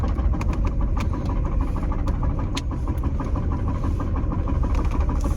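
A car engine idles and throbs with a steady low rumble at a busy roadside, a deep boat-like drone that holds constant throughout with faint passing traffic.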